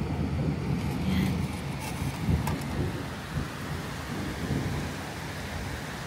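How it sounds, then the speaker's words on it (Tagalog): Heavy, sudden rain pouring down in a steady broadband roar, with low rumbling thunder swelling in the background, continuous and close throughout. "Umulan bigla. Umulan ng malakas."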